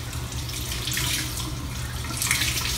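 Tap water runs steadily into a sink while a Beauty Blender makeup sponge is washed, a continuous close splashing hiss that swells slightly in places, with no talking.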